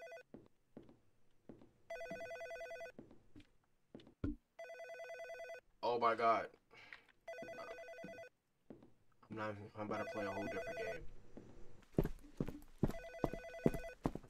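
A telephone rings repeatedly in a video game restaurant setting, with regular bursts of ringing separated by short gaps and someone talking excitedly between and over the rings.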